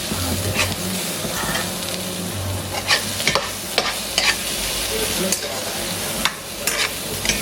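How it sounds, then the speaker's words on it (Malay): Sambal tahu paste being stirred in a frying pan, steady sizzling with repeated scraping strokes of the spatula across the pan, close and fairly loud, without voices. "Kacau-kacau sikit supaya masak batu sikit."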